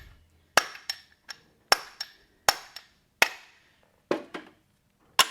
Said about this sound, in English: I can loosen those nails up just by giving each nail a little pop here